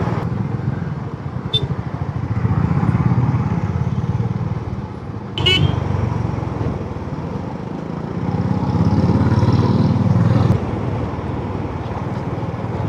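A Honda H'ness CB350 motorcycle engine drones steadily while riding through moderate Bangalore city traffic, with its pitch rising and falling between gears and a brief horn or click breaking through midway.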